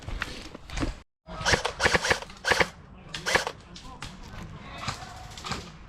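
Airsoft guns firing at an outdoor airsoft site, sharp snapping shots in quick irregular bursts and single pops, fairly close, with faint shuffling between.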